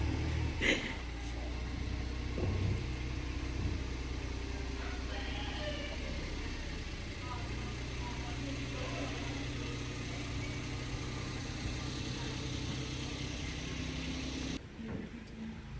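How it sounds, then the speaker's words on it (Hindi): Car engine idling with a steady low rumble and faint vibration as the vehicle turns to pull out, with a few knocks and thuds and some background voices, continuing for several seconds before cutting off near the end. "बस अब गाड़ी जो है वो टर्न होती है तो फिर इंशाल्लाह निकल आएगी बाहर"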